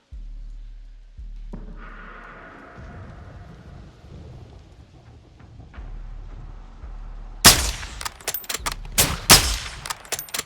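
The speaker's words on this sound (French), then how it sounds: "il a entendu le coup de feu" In the video game Call of Duty: Modern Warfare 2, after a low, rumbling start, a rapid burst of loud, sharp gunshots cracks out, several shots in quick succession.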